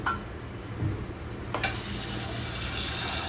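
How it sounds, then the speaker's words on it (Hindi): Water poured into a bowl in a home kitchen, a steady splashing stream that rises and continues without pause, fairly close and with no talk. "ये डाल दिया मैंने अब इसमें पानी"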